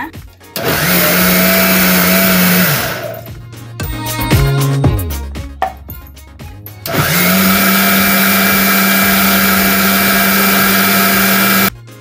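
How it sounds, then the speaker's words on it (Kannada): A kitchen mixie blender grinds millet dosa batter in two long, loud, steady motor runs, separated by a few seconds of clatter and handling as the jar is worked between bursts. "ನಾನು ಯಾಕೆ ಮಿಕ್ಸಿಯಲ್ಲಿ ಮಾಡ್ತಾ ಇದ್ದೀನಿ"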